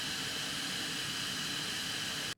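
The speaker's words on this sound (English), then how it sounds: "The fan speed in max mode is like a jet engine." The cooling fan of an Ayaneo Pocket DS handheld running in max mode gives a steady, loud, whooshing rush of air, jet-like and unbroken, that cuts off abruptly at the end.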